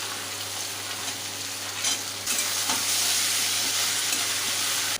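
Bori lentil dumplings tipped into a hot pan of vegetables for a Bengali shukto, giving a steady hissing sizzle that swells louder midway and stays strong, with faint stirring scrapes.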